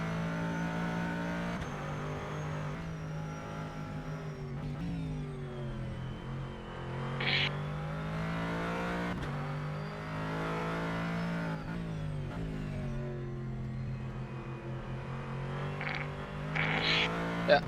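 Corvette Callaway GT3 engine in a racing simulator, held at a steady, loud high-rpm drone flat out, with pitch dips and recoveries through turns and brief gear-change blips near the end.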